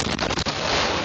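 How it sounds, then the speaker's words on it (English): A home explodes on a Saturday morning in a Pittsburgh suburb, heard through a doorbell camera as a loud, harsh blast with rumbling, crackling bursts that roar on without pause. "doorbell video capturing the moment this home exploded Saturday morning"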